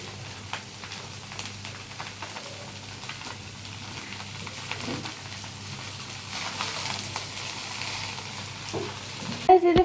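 Fried rice cooked in ghee sizzles with a steady, moderate hiss and occasional stirring scrapes, followed by a brief clatter of utensils at the very end.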